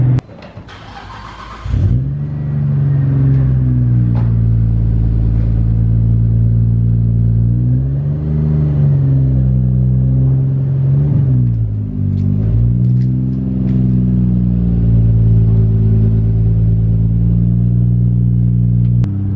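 A stock Nissan R34 GTR starts with a brief crank, then settles into a loud, close, deep engine rumble, with the pitch rising and falling through several revs as the car idles and creeps up. No voices.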